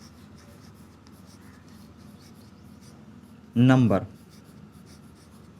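A marker or chalk scratches across a classroom board in a continuous close rub, with a short spoken word from a teacher partway through.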